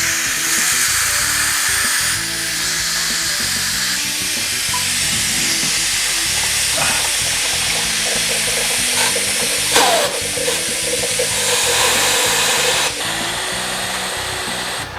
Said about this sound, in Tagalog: tanggalin na natin yung steam sa pressure cooker natin